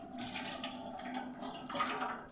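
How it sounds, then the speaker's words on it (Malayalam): Tap water runs steadily as potatoes are washed for boiling, a soft, continuous splashing stream in a kitchen sink, fairly quiet and uninterrupted. "ഈ ഉരുളക്കിഴങ്ങ് നമുക്കിപ്പം കഴുകിയിട്ട് കുക്കറിൽ പുഴുങ്ങാൻ വെക്കാം."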